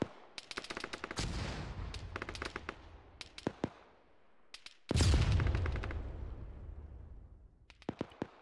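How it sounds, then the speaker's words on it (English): Mortar impacts and gunfire in the Arma 3 military game sound at a distance, with scattered sharp gunshot cracks, a long rumbling blast midway and more bursts of shots, echoing with no talk. "Recommend you stop dropping mortars right on top of them."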